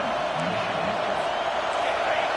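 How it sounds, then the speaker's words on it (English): Stadium crowd in a college football video game against Miami, a steady loud roar with scattered whoops and cheers, sustained without break throughout. "And wow, listen to this crowd noise. This stadium is vibrating."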